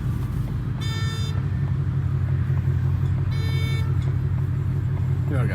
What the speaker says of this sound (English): Damn, that downshift is rough.